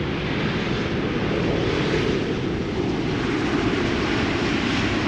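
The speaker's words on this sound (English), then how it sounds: "This is KLM B734, a 777-200 having arrived from Willemstad, Curaçao." A KLM Boeing 777-200 airliner arriving at Schiphol from Willemstad, Curaçao produces a steady, loud jet engine roar with broad rushing noise and wind buffeting throughout, with no voices.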